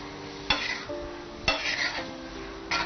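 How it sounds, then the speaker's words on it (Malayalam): Gravy enriched with fresh cream being sautéed and stirred in a pan, with steady sizzling and three sharp utensil scrapes against the pan at regular intervals. "ഫ്രഷ് ക്രീമും കൂടി ചേർത്ത് ഒന്നുകൂടി ഒന്ന് വഴറ്റാം"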